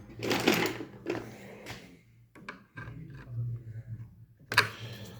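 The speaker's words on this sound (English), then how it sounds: "I'm gonna take a straight head screwdriver" A straight-head screwdriver pries and scrapes at a heatsink inside a Vizio 50-inch LED flat-screen TV being scrapped, producing a few close, short rasping and clicking bursts separated by pauses over a low hum.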